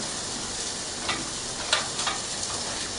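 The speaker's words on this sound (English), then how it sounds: "you can hear the burgers sizzling away there" Buffalo mini-burgers sizzle in a frying pan with a dense, continuous hiss, broken by a few soft clicks and pops of fat and utensil taps, close and with no voices.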